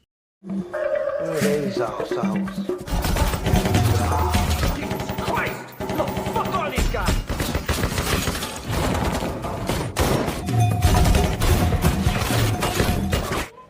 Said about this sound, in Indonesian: kemudian baku tembak pun tak terelakkan.